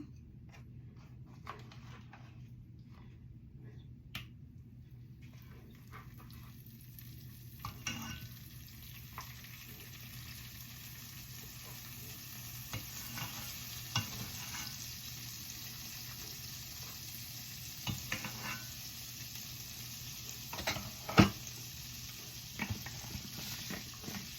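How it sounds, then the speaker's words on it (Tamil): Butter melts and sizzles in a pan for potato gnocchi, a faint steady frying hiss running throughout, with occasional soft clicks and taps from a utensil and one sharper knock near the end. "இப்போ பட்டர் போட்டுக்கொள்கிறேன்"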